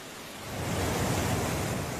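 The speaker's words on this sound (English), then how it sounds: "the world's longest river is squeezed into a chasm just 5 meters wide before crashing into the broad floodplain below" Waterfall on the Nile River, crashing through a chasm only about 5 meters wide in Uganda, giving a steady broadband roar that swells slightly and holds loud and continuous.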